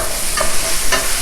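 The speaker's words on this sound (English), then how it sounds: "the sausages have been cooking for a little while. Now I'm going to go ahead and put a cup and a half of chopped up potatoes" Sausages and chopped potatoes fry in a pan, a close, bright sizzle broken by two quick stirring scrapes.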